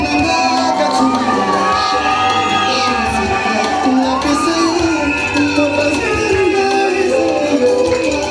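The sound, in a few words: wedding guests clapping and cheering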